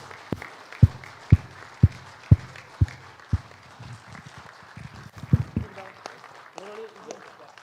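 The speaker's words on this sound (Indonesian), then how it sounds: "Tepuk tangan dulu." At a Labour Party congress, a small group claps for the newly elected party president with a handful of distinct, evenly spaced loud claps over a low murmur of people, then a few softer scattered claps and some voices.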